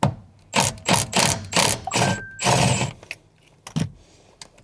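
Sharp metallic ratcheting from a driver backing out a T30 Torx screw in the seat of a BMW E46 M3, several loud bursts of clicks close up, then scattered lighter taps.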